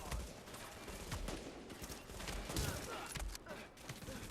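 Dense bursts of automatic gunfire crackle in The Division's open world, a rapid fusillade of overlapping shots with shouted voices mixed into the firefight.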